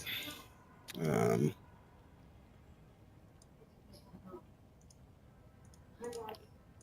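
A computer mouse clicks during a PC gaming session, with a loud burst of quick clicks followed by a few scattered, fainter clicks over low room noise.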